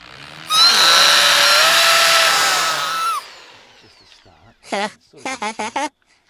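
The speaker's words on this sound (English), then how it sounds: "he would know it was a power drill" A power drill whirs steadily for a few seconds with a slight pitch drift, then stops; a few short voice sounds follow.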